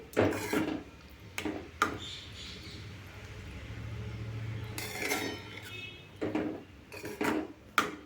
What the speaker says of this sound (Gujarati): દહીંમાં વઘાર એકદમ સરસ રીતે મિક્સ થઈ ગયો છે